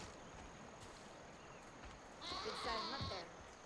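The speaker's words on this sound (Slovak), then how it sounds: "Koza!" A goat bleats in Far Cry 5, a short game-world cry rising over steady background ambience near the end, with speech-like sound present.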